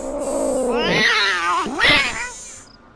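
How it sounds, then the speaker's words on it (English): A robotic cat character in a Nancy Drew video game meows in long, wavering, drawn-out calls, two rising and falling cries close and loud over a faint electronic backdrop. "Who's my favorite robotic cat?"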